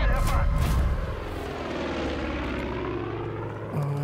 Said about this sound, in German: jetzt ist das scheiß Flugzeug wieder da